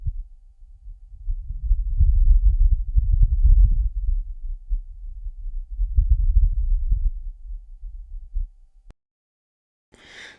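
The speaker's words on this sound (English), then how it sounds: "what you're hearing is actual wind in the thin carbon dioxide atmosphere of Mars for the first time ever" Wind on Mars in the thin carbon dioxide atmosphere, picked up by the Perseverance rover microphone: a low, rumbling, gusting whoosh that swells and fades, then cuts to silence before a brief noisy burst.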